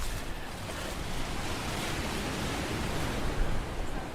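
Big whitecap waves crash onto the Pacific coast near sea stacks, a loud, continuous, broadband roar of surf and wind with no voices.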